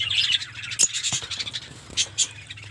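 A pair of Fischer's lovebirds just released into a cage give sharp, high chirps and squawks in short irregular bursts, close by and fairly faint, with light patter in between.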